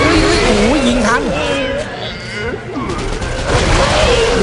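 Rapid bursts of gunfire come from the sci-fi horror video game Dead Space 3, crackling loudly and nearly continuously under excited voices talking over it.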